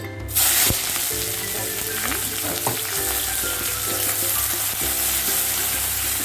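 Onion frying in hot oil in a pan for chicken noodles, a loud, steady sizzle that flares as the onion goes in, with occasional stirring clinks close by.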